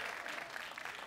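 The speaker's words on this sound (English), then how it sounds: "Give it up for him." A live comedy club audience breaks into steady, dense applause for a comedian, continuous clapping filling the room at full level for the whole second.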